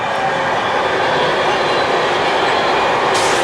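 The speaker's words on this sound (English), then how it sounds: "Was waiting for the Euston Glasgow, but that actually passed while I was filming." A London North Western Railway train rushes past at close range on a main line. The roar is loud and steady throughout and drowns out everything else, with no talk.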